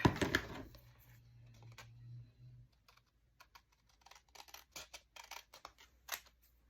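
A few crisp snips of scissors through paper, close and fairly quiet, followed by scattered small clicks and handling taps.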